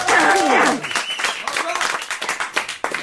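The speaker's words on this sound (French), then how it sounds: "Sous les applaudissements du public" Studio audience applause on a French TV variety show, a loud dense burst that fades after the first second into scattered claps under talk and a sung or spoken voice.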